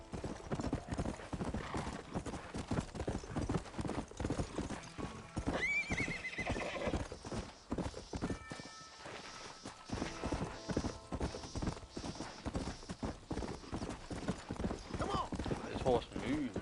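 Hoofbeats of a galloping horse clip-clop steadily throughout a Red Dead Redemption game session, with whinnies breaking in and a player talking over the action.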